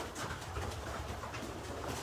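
Pigeons in a racing loft giving soft, low cooing over a steady, dense murmur of birds, continuous and close, with no speech.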